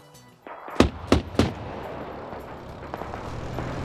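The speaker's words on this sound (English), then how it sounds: "we still have this vehicle's autocannon firing at armored positions. Ibno and NASA under heavy fire. HE shells detonating within feet of them" A vehicle autocannon firing and high-explosive shells bursting in a 175-player Russia versus Britain battle game, three sharp heavy blasts in quick succession, then scattered distant pops and rumble.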